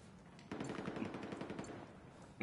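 Rapid video game gunfire, a quiet, fast burst of automatic shots lasting about two seconds after a brief near-silent start.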